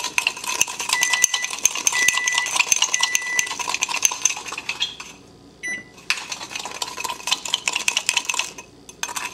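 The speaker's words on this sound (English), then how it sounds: "So keep foaming, scraping down the sides every once in a while. Keep aerating that coffee." Coffee being whisked into a pale, frothy foam, with rapid, steady metallic rattling and scraping against the sides of a bowl, close and loud, pausing briefly before resuming.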